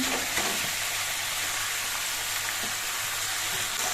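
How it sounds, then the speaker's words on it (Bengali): Boiled banana stem, potatoes and spices sautéing in a pan make a loud, continuous, even sizzle, heard up close with no voices. "এবার সব কিছু দিয়ে নিয়ে করে মিশিয়ে কিছুক্ষণ কষিয়ে নিতে হবে"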